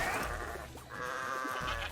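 Sheep in the game Bang On Balls Chronicles let out a loud, wavering bleat close up, then a second one. Background game music plays underneath and no one speaks.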